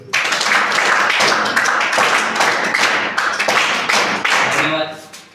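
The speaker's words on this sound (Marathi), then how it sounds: "चला तर आपण त्यांची 3 टाळ्या वाजवून स्वागत करूया." An audience claps in welcome at a gathering: a dense, steady patter of many hands held at an even loudness for about five seconds before tapering off at the end.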